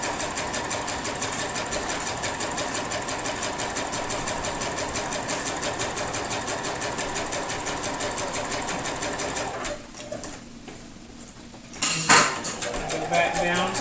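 Domestic sewing machine stitching quilting lines along a piano key border on a quilt, a steady loud continuous whir for about ten seconds, then it stops briefly and a few handling clatters and a restart follow; a voice is present underneath.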